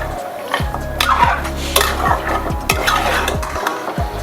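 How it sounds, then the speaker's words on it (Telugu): Mutton curry with cucumber being stirred in a pot, a spoon scraping and knocking against the metal in a steady rhythm of repeated strokes, with a soft sizzle underneath, close and fairly loud. "ఇప్పుడు మటన్ ముక్కలు మొత్తం కలిసేలాగా ఒకసారి కలుపుకుందాం కింద నుంచి పైకి పై నుంచి కిందకి కలుపుకోండి"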